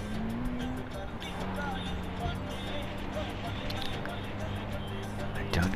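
A car driven in the video game Far Cry 4, its engine droning steadily with shifting pitch alongside game effects, and a voice talking over it.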